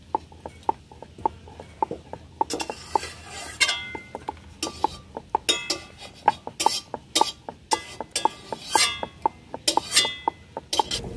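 A rolling pin works pieces of flour dough on a board, making a steady run of light knocks and clacks, close and fairly loud, with no talk.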